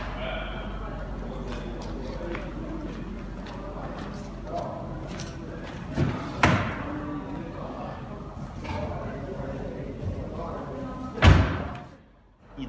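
A Volkswagen ID.3 electric car door thuds shut with a solid slam partway through, followed later by another louder door thump over a low background.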